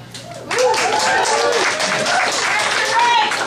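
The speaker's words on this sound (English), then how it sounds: "I'd hold the applause, ladies." Audience applause and cheering at a stand-up comedy show in a club, a dense wash of clapping that swells in at the start and holds steady and loud throughout, with voices mixed into the crowd noise.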